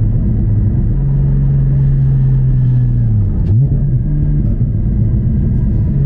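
Porsche Cayman GT4 981 engine under load, heard from inside the car, a loud continuous drone climbing and dipping through the rev range with a brief pitch change midway.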